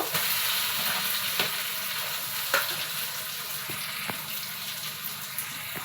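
Boiled dal with spices, butter and melted tomato is stirred in a sizzling pan, a steady frying hiss carrying scattered scrapes and clicks of the spoon against the metal, close and continuous with no talking.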